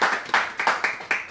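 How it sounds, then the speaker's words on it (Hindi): A small group claps for Milan sir and the others in five or six quick, separate bursts, close and fairly loud, each fading fast. "इसमें मिलन सर और बाकी लोगों के लिए तालियां बजा दीजिए।"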